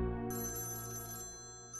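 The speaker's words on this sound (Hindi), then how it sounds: "मेरे ख्याल में आपका फोन बज रहा है, मैं लेके आती हूँ।" A telephone rings with a steady electronic ringtone in a scene from a Pakistani TV drama, its bright repeating tones sounding clearly and alone throughout, with no one speaking.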